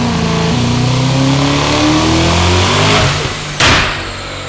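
Mercedes-AMG GT63s with a big turbo running rolling anti-lag, revving loudly and steadily up close before a sharp pop or bang near the end, with no talking.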